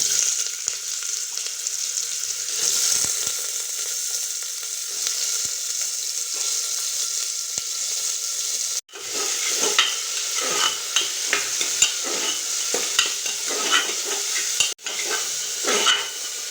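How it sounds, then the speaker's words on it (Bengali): Potatoes fry in hot mustard oil inside a pressure cooker and are stirred, giving a steady loud sizzle and hiss with scraping spoon strokes and occasional metallic knocks against the pot, no talking. "আলুটা একটু নাড়াচাড়া করে ভেজে নেব"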